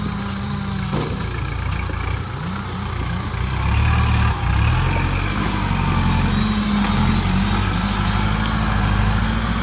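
A small tractor engine runs close by with a steady, throaty rumble, its pitch shifting slightly as it works and rising a little midway, with no voices over it.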